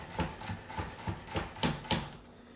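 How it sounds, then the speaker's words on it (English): A knife slicing an onion on a cutting board, with a steady series of about eight crisp, close chopping taps in an even rhythm, moderately quiet with no talking. "and then I'm going to slice the onion"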